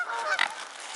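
Swans at a pond give a brief, close honk, a single short squawking call over a rough outdoor background.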